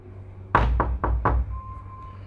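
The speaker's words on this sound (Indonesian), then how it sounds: "Suara ketukan pintu dari luar kamar Wati." Four firm knocks on a door from outside a bedroom, evenly spaced and close, followed by a faint lingering tone in a quiet room.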